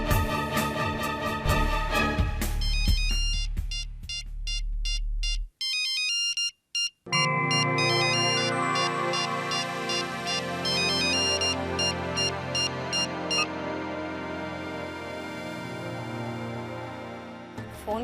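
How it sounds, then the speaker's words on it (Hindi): Mobile phone ringtone playing a bright electronic melody, loud and clear with no voices, pausing briefly partway through before ringing on. "फोन क्यों नहीं उठा रहे हो?"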